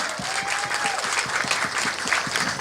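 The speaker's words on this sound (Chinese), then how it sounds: "我们为自己掌声鼓励一下，好不好？" A crowd applauds at the Keelung sea dragon boat race event, with steady, even clapping from many hands filling the whole stretch at close range.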